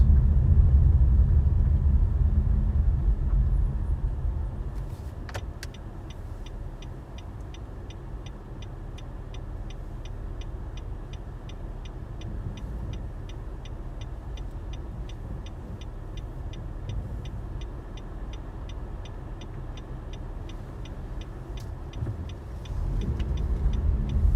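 Car driving through central St Petersburg along Taurida Garden on a Sunday morning, with a steady low road rumble and engine drone throughout and a faint regular ticking, likely a turn signal, mid-clip.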